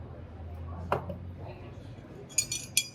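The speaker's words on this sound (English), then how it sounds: "Add your ice. The ice should come out above the amount of liquid in your glass." Ice cubes dropped into a cocktail glass at a bar: a single clink, then two bright, quick glassy clinks close by over low background hum.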